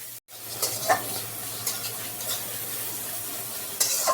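Onion frying in oil in a kadai, a continuous close hiss and sizzle with occasional light scrapes and crackles, steady and unbroken apart from a short dropout near the start.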